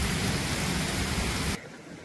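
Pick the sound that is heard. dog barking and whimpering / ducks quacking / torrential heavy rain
torrential heavy rain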